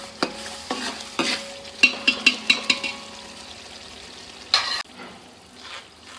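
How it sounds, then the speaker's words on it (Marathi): A spoon stirs a chicken biryani mixture in a pan with a faint sizzle underneath, several quick scraping strokes in a short burst followed by a couple of isolated knocks, close and fairly quiet. "तर हे सगळं चांगलं हलवून घेते."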